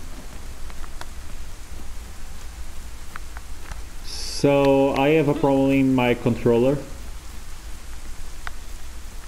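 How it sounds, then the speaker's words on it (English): Steady rain hiss in the survival video game DayZ runs throughout as a constant broadband wash, with someone speaking briefly over it in the middle. "it's raining"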